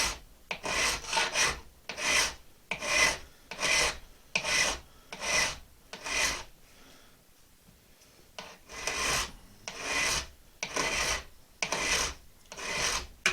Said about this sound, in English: Just get a round file and smooth those out.